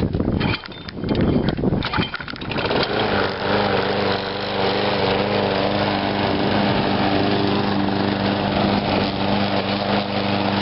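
A Craftsman push lawn mower with a Briggs & Stratton 5.0 engine sputters through a rough start, then settles into a steady, loud, close running drone that fills the rest of the clip.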